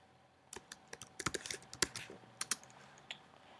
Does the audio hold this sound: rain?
no